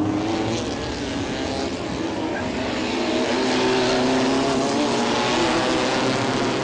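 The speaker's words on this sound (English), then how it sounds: "The drivers are lined up on the grid and they're off." Stock race cars with modified engines and carburettors pulling away from the grid at a national racing championship round in Coimbatore, a steady dense engine roar, loud and continuous, without any talking.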